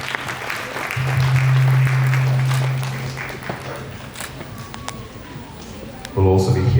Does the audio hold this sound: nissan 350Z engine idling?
no